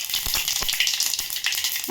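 Mustard seeds and cumin sizzle in hot oil, a loud, close, continuous crackle with sharp spitting pops scattered throughout.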